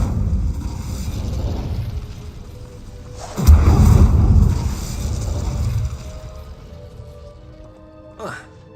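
Incendio fire spell cast in Hogwarts Legacy, a loud whooshing burst of flame with a low rumbling boom that swells and fades over a couple of seconds, amid game ambience with talk.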